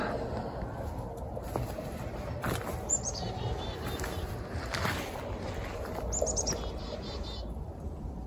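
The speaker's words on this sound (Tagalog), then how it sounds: "So dyan nakatala yung mga ibon." Small birds chirping in a snowy garden in Manitoba, faint scattered tweets over a steady outdoor hiss, with a few brief higher calls and soft background noise.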